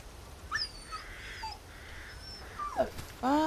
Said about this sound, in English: Y'all hear that dog?